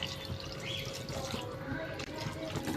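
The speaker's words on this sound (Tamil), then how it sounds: "இப்போ குழம்பு தேவையான அளவுக்கு தண்ணி ஊற்றிக்கலாம்." Water is poured steadily into a pan of brinjal kara kuzhambu curry, giving a continuous close splashing and gurgling pour with no break.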